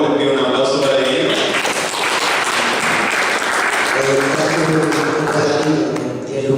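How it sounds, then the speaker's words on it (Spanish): An audience at a radio forum on Cabify and mobility apps claps for the guests, giving sustained, dense applause for several seconds with a voice faintly underneath. "Les pido un aplauso para ellos."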